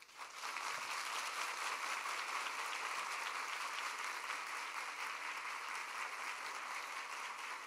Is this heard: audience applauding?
yes